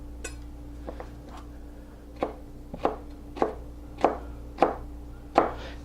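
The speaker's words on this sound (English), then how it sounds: "what I'm trying to do is to cut these into little 1/4 inch or no wider than 1/4 inch strips" A razor-sharp knife chops vegetables into quarter-inch strips for pico de gallo, a series of evenly spaced crisp thuds on a cutting board that grow louder and more regular.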